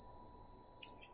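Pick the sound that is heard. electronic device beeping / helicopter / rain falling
electronic device beeping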